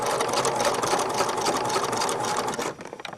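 A sewing machine runs steadily, stitching elastic in an X pattern across a fabric casing, with a continuous rapid whirring hum that slows and stops at the end.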